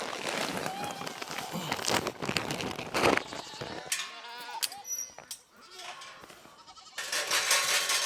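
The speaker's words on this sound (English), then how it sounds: "We're fixing to get all the goats back in here." Goats bleating repeatedly at a farm as they are gathered into a pen, loud nearby calls mixed with scuffling and movement, with a person talking over parts of it.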